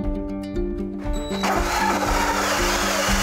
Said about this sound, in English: I've drilled a little pilot hole to help the hole saw guide into place